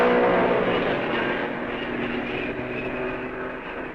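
Roaring engines of 1955 Mercedes Formula 1 race cars at the Belgian Grand Prix, a dense, loud, continuous drone that eases slightly as the cars move on, no voices.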